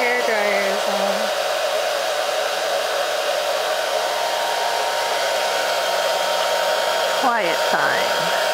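A hair dryer runs steadily and loudly from start to finish as a constant broadband whoosh, with brief faint baby vocal sounds near the beginning and end under the drone.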